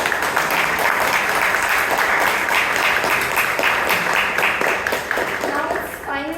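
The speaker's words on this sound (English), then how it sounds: "So huge round of applause for DTM Vijay." A Toastmasters club audience gives sustained applause, dense and close, fading near the end as a voice begins talking.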